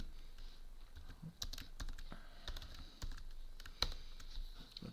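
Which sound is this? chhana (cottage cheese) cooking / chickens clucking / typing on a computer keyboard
typing on a computer keyboard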